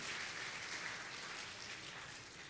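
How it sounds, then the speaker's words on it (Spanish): A church congregation applauding together, a dense continuous wash of clapping that sounds somewhat distant and fairly quiet throughout, with no clear talk over it. "Denle un aplauso a Dios por la vida de su familia."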